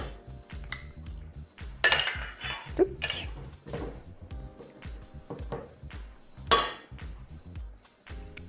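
Melted butter and a whole egg going into a mixing bowl for gluten-free Hildegard of Bingen joy biscuits, heard as a busy run of clinking utensils, bowl knocks and kitchen clatter.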